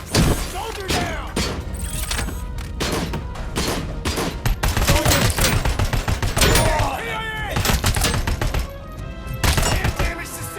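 Gunfire in the video game RoboCop: Rogue City, dense overlapping shots and bursts in a loud firefight, with voices shouting over the continuous barrage.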